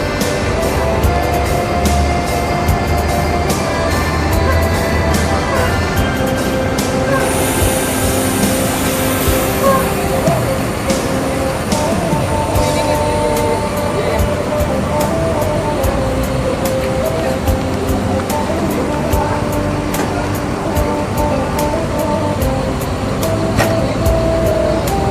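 An ANS intercity bus departs Jakarta for West Sumatra, its engine droning steadily with a hiss and air-conditioning hum, surrounded by bustling terminal ambience and scattered voices.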